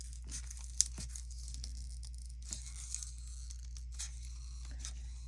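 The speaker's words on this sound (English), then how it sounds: "can you see that I'm cutting it with scissors?" Scissors cutting Dollar Tree Halloween craft material, a few faint, sparse snips and crinkly scraping in an otherwise quiet indoor room.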